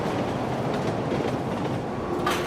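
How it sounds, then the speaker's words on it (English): New York City subway cars rolling on the tracks, a dense continuous rumble and rattle close by with a brief higher squeal near the end. "We can hear the subway cars on the tracks, doors opening and closing."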